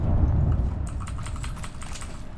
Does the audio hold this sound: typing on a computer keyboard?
yes